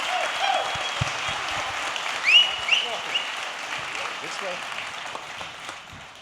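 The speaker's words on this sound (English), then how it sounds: "Folks, let's give them a big round of applause." A conference crowd at the European Microsoft Fabric Community Conference gives a sustained round of applause, a dense, even wash of clapping that holds steady with a brief swell partway through.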